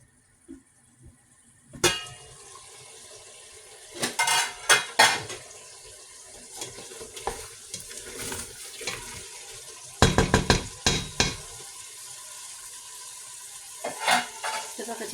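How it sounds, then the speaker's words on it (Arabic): Meat and onion sauté in a pot for couscous broth. A soft sizzle runs under repeated close clanks and scrapes of a utensil against the pot, coming in bursts. "منين تشحر لكم اللحيمه ديالكم والبصيله"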